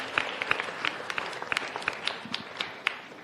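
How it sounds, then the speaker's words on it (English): Scattered, uneven applause from a seminar audience honoring distinguished panelists and Nobel laureates, with distinct individual claps rising and falling at a moderate distance. "let us give a round of applause to distinguished panelists here"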